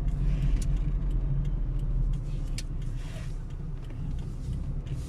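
A car drives around plac Kościuszki, a town square in Oświęcim, Poland, its engine rumbling steadily from inside the cabin, a little louder at first then settling into a constant hum.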